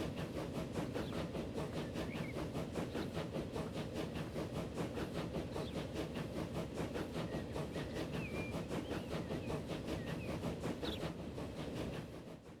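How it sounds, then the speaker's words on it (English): Train running in Transport Fever, a steady rail rumble with regular clickety-clack beats and a faint hiss, continuous and moderately loud with no talk over it. "Train's turning around"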